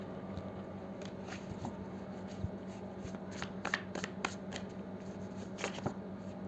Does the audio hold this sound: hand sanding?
no